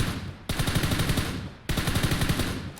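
Automatic gunfire in the PUBG New State training room, two sustained bursts of rapid, evenly spaced shots, loud and close with a brief gap between them.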